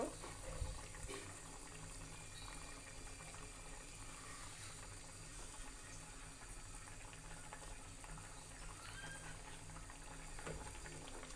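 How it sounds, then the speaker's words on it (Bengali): Curry of eggs, potato and pointed gourd simmering in a pot comes to a boil, making a quiet, continuous bubbling that holds steady from start to finish, with no talk. "দেখুন আমার তরকারিটা বলক এসে গেছে"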